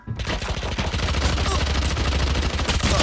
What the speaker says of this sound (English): I pre-fired again and shot through the walls